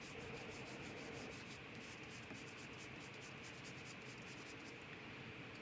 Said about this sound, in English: Now you can use carbon paper or this is a charcoal stick, just like charcoal artists use. And I'm gonna rub this on the back.